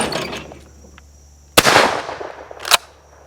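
Two loud, sharp shotgun blasts fired at dove outdoors with a Carlson's White Wing choke, the first mid-clip with a rolling echo tail and the second a second later, over quiet wind.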